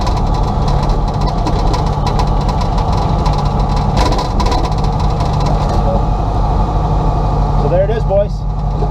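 A turbocharged 1967 VW Beetle engine on its first drive gives a loud, steady rumble that runs the whole way through. A voice speaks over it near the end.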